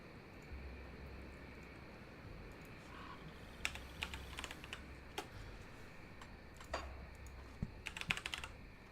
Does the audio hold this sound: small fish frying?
no